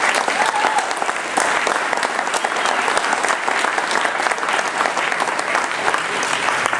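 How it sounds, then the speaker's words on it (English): A debate audience in North Ogden gives the candidates a round of applause: loud, sustained clapping from a full room that stays dense and even for nearly seven seconds, with no voices on top. "I'd like you to give these candidates a round of applause"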